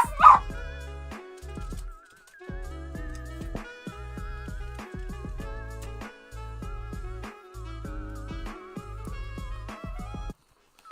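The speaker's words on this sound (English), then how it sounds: "I'm gonna let my dog out real fast because he's like whining." A dog whines in long, wavering, high-pitched whimpers broken by short yips and gaps, close by and indoors, with no talking.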